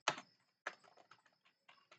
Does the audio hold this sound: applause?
no